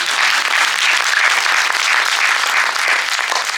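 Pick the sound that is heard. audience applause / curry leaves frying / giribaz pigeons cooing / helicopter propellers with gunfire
audience applause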